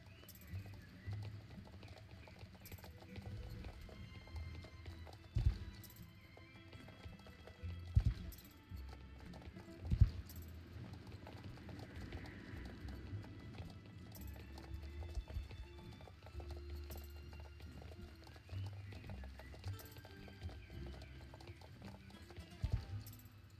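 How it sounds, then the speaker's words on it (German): Horse hooves trotting in the online horse-riding game Star Stable Online, a steady clip-clop rhythm running through the clip with a few louder hoof thuds, moderately close, with no talk over it. "Können wir auch einen Trab machen, oder?"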